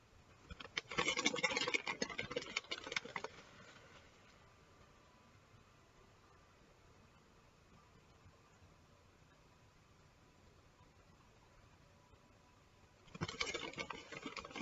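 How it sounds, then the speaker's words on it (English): Topping, likely cheese, is scattered by hand over a breakfast pizza with a hashbrown crust, giving soft patter and scratchy rustles in two bursts near the start and end, quiet in between. "we're going to be sprinkling it all over the top"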